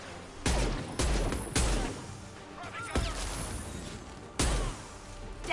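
Gunfire from the video game Mass Effect 2: several loud bursts of shooting and impacts in quick succession, with a sustained rumble of combat noise between them.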